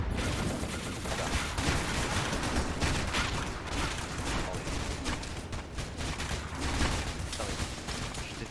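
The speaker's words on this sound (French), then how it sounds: "Je déteste cette arme les gens parce qu'elle est juste insupportable à utiliser, le fusil à pompe là." A pump-action shotgun in the Roblox game SCP rBreach fires in dense, rapid volleys, a steady barrage of loud cracks and mechanical clatter running throughout with no clear speech.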